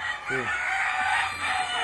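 A champion fighting rooster, a breeder's gamecock, gives a short crow against steady background noise, its voice clear and fairly close.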